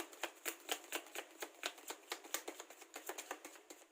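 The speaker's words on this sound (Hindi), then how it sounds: "चलिए आगे के कार्ड्स लेते हैं।" Tarot cards are shuffled by hand in a quick, rhythmic series of crisp riffling bursts, close and fairly quiet, with nothing else heard.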